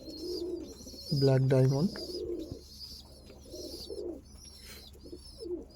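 An Andhra Kalsira Lalsira pigeon in a loft gives one loud, close, rolling coo, with softer calls before and after while someone talks.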